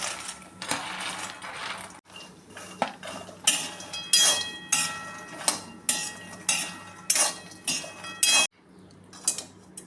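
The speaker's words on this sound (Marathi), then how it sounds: "आता आपण मखाना भाजून घेऊया।" Makhana (fox nuts) roast in a dry pan, stirred with a utensil that scrapes and clinks against the metal in a steady rhythm of repeated strokes, close and fairly loud, with no talking.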